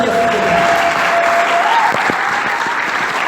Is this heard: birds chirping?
no